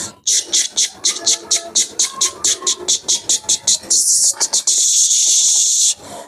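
A voice imitates a shaker with rhythmic breathy hissing pulses in a fast steady beat, ending in longer sustained hisses.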